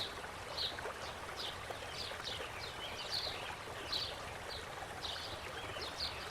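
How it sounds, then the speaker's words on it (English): A paintbrush is swished and rinsed in a water cup, giving soft, faint trickling and splashing with small repeated dips and taps, heard alone at close range. "I'm going to go ahead and rinse out now."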